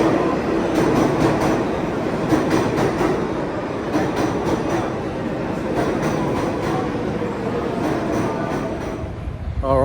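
Riding the New York City number 7 subway from Times Square toward Flushing Meadows: a loud continuous rumble inside the car with rhythmic clickety-clack of wheels over rail joints, brief squeals near the end, and faint background voices.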